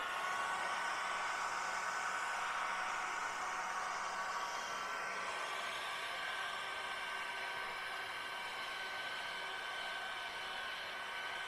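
A heat gun blows a steady, even hiss of hot air while shrinking a heat-shrink sleeve onto a hose during a twin-turbo kit install on an R8 Huracan, continuous and fairly quiet with no speech.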